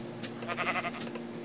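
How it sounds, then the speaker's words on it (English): Sheep bleating in Minecraft, a couple of short, nasal baa calls close by, standing alone with little else around them. "Sheep's in there, nice and secure."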